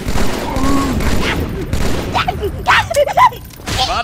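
Explosions and gunfire fill the Halo 2 campaign on PC, a dense, loud fusillade of shots and booms with sharp bursts near the end, and a voice faintly under the din.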